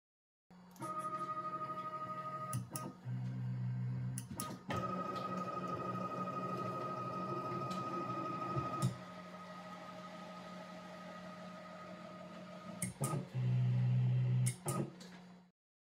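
A Genmitsu PROVerXL 4030 V2 CNC router homes its axes, with steady whining stepper motor tones that shift in pitch between moves, broken by sharp clicks and short pauses before stopping.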